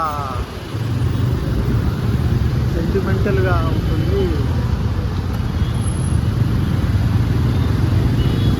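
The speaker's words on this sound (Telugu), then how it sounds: "చాలా అంటే చాలా ట్రాఫిక్ ఉంది మొత్తం హైదరాబాదు" Dense Hyderabad road traffic rumbles continuously nearby, cars and motorbikes passing in a steady roar with a brief horn-like whine, while someone talks over it.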